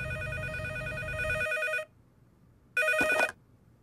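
A telephone rings with a bright repeating electronic trill, one long ring that cuts off, then a short second ring after a pause, clear and close.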